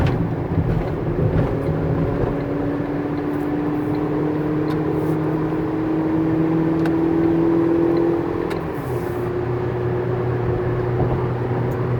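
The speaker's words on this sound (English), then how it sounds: "I want you to hear the engine run, transmission shift." A 2013 Ford Transit Connect XLT wheelchair van's engine hums as it accelerates from inside the cabin, the pitch climbing steadily before a clear drop as the transmission shifts, with wind noise behind.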